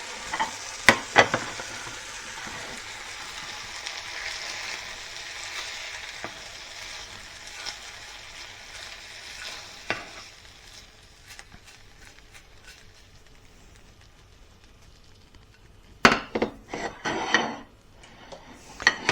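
Cawoods saltfish fillet frying in a pan, with a steady close sizzle that gradually softens, then a short burst of utensil clatter near the end; no voices.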